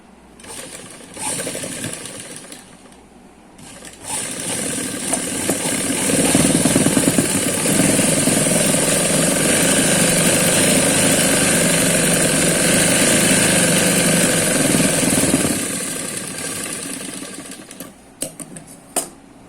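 A sewing machine stitches palazzo pants: short bursts of whirring at first, then a long steady run of rapid mechanical rattling at close range before it slows and stops.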